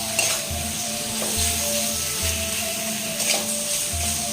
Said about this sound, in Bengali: খুব ভালো করে এবার কষিয়ে নেবো মশলার সাথে।